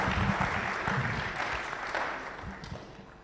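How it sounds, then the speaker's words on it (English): Audience applause for graduates at a tech and web development graduation ceremony, a dense steady clapping that fades gradually over a few seconds. "Can we give them a big round of applause for the hard work they put in?"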